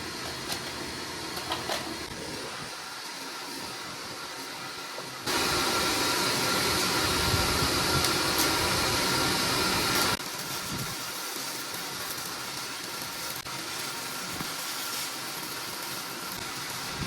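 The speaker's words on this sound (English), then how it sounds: "I'm gonna be welding some stuff." Welding on a BMW E30 car gives a steady, dense crackling hiss that runs for about five seconds and stops abruptly, with quieter workshop noise before and after and no talking.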